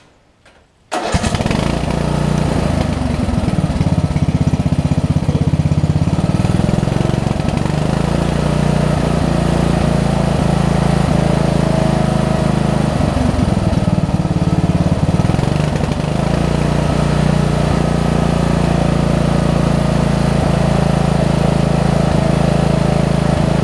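A Craftsman riding lawn mower engine, freshly fitted with a carburetor, starts abruptly and then runs loud and steady, a continuous close rumbling drone with slight fluctuations throughout.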